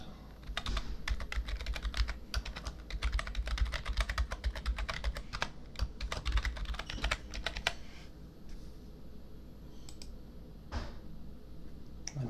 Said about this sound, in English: I must have typed the password incorrect.